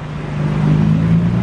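BMW M4 driving past with a steady, fairly loud engine drone that builds slightly over a brief moment, no talk.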